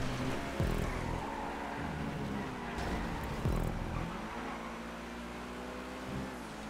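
A race car engine in GTA 5 revs and shifts through gears on a track, the pitch sweeping upward repeatedly with drops at each change, steady and prominent with no talk.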